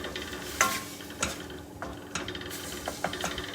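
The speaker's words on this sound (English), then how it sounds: "all we're doing is frying off the onions with a bit of ginger and some garlic" Onions, ginger and garlic fry with soft sizzling in a pan, with occasional scraping stirs and taps of a utensil, close and fairly quiet.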